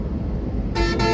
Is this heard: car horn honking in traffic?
yes